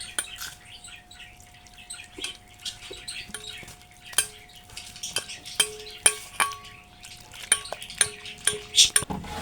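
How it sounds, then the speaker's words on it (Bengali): Salt, turmeric and chilli powder stirred into a gram-flour batter with water, heard as a series of light clinks and taps of a utensil against a bowl, growing busier and sharper toward the end, with no talking. "আর দেব লবণ, হলুদ গুঁড়ো, আর দেব লঙ্কার গুঁড়ো। জল দিয়ে গুলিয়ে নেব।"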